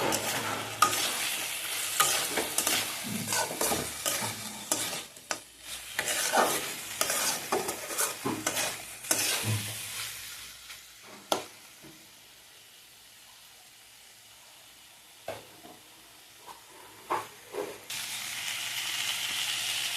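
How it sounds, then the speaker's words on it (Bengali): Bathua greens sprinkled with sugar are stir-fried on a high flame, with loud, busy scraping strokes over a crackling sizzle for about ten seconds, then a quieter simmering hiss broken by a few isolated clatters. "নর্মাল টু হাই ফ্লেমে দিয়ে আমি ভেজে নেব।"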